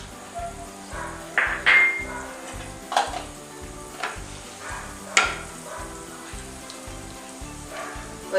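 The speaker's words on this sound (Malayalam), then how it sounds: "കടുക് പൊട്ടിയതിന് ശേഷം ഞാൻ കുറച്ച് വറ്റൽമുളക് ചേർത്ത് കൊടുക്കും. കുറച്ച് കടലപ്പരിപ്പ്, കുറച്ച് നമ്മൾ വെച്ചേക്കണ കപ്പലണ്ടി" Dried red chillies, chana dal and peanuts sizzle in hot oil with mustard seeds. A steady crackling fry runs throughout, broken by irregular sharp pops and a few spoon scrapes against the pan, and no one speaks.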